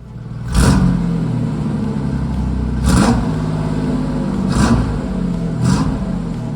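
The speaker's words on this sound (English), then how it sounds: "Hearing this car run and seeing it on the road, driving home" A restored Pontiac Firebird, still tuned for a stock 3.1 liter engine, runs at a steady idle with four sharp revs rising at regular intervals, loud and close, with no voices.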